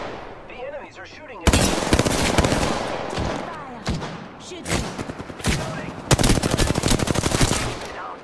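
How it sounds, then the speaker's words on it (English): Apex Legends gunfire: rapid automatic bursts rattle loud and close, several long strings of shots separated by short pauses, with game voice lines in the mix. "Shooting it. Fire. Shoot."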